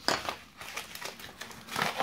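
Crinkling and rustling of parcel packaging being handled and torn open, in short bursts close by with brief pauses, no talking.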